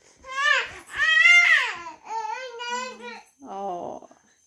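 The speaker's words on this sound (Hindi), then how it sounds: "रोने की आवाज आई ना" An infant cries in a home, with several rising and falling wailing bursts separated by short breaths, close and fairly loud, with babbling and whimpering between the cries.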